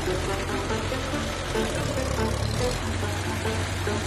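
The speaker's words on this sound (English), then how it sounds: "Dump truck." Dump truck engine running steadily, a continuous low rumbling idle with knocking texture, close and loud throughout with no pauses.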